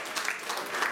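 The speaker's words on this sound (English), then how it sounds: "Round of applause" A brief burst of crowd applause at a carnival introductions gathering, a soft, diffuse patter of many hands heard for under a second.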